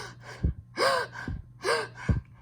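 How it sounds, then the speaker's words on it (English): Narrator's sharp intakes of breath from an audiobook recording, three loud gasping inhales spaced about a second apart with softer breathy sounds between, very close to the microphone over a low steady hum. "remove any great gasp of air"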